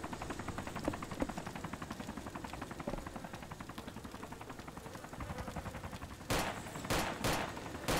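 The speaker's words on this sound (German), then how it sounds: "Schießt du? Feuer auf den Heli." Rapid automatic gunfire in the video game DayZ Overpoch, aimed at a helicopter, rattles steadily throughout over a droning engine, then several louder, sharper bursts crack out near the end.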